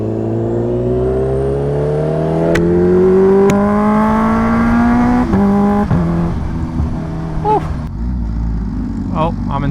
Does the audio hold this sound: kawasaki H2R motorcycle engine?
yes